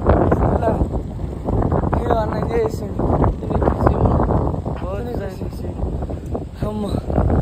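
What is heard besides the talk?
wind blowing beside a pond embankment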